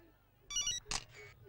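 A mobile phone ringtone sounds in a Telugu comedy scene, two short bright electronic bursts separated by a brief gap, fairly close and clear, with a soft low background.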